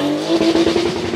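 A Porsche Motorsport 935 race car in Forza Horizon 5 drives with a loud, close engine drone holding a steady low pitch, with slight fluctuations suggesting revving or tire scrub.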